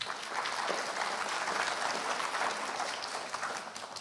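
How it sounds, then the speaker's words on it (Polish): A conference audience applauds in a steady, dense burst of many hands clapping at once, holding evenly for a few seconds before easing slightly. Nobody speaks over it. "Wielkie brawa."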